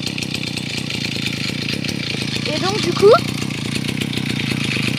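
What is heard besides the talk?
brushcutter engine running at idle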